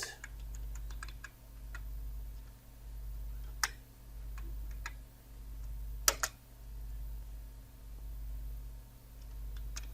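Sparse, irregular keystrokes on a computer keyboard while entering text in a word processor, a few sharper clacks standing out over a steady low electrical hum with a slow pulsing rumble.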